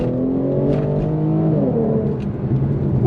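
An Infiniti Q50 tuned to run on E85 fuel pulls hard under acceleration, its engine roaring loudly and climbing steadily in pitch, heard close from inside or near the car with no talking.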